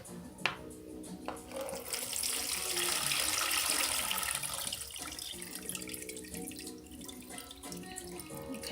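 Water kefir pours and splashes steadily through a strainer into a container, a continuous trickling rush that swells in the middle and then thins out.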